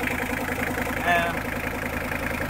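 A Mitsubishi Pajero 4D56 turbo diesel, freshly overhauled, idles close by with a rhythmic clatter and a loud compressor whine beneath, a short rise in pitch briefly swelling midway.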